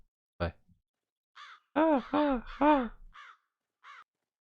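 A raven in the fishing video game Fishing Planet gives a string of about five hoarse, rasping caws spaced a fraction of a second apart, fairly close and clear, after a single short click.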